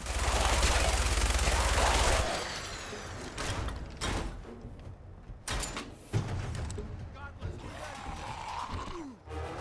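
A minigun in Fallout 4 fires a loud continuous rattling burst for about two seconds, followed by scattered gunshots, clanks and mechanical sounds at lower level.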